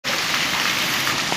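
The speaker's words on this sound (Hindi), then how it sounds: "यहाँ पे बारिश शुरू हो गई है।" Steady, dense rainfall hisses loudly and evenly as a monsoon shower begins in Rahim Yar Khan, Pakistan, with no voices.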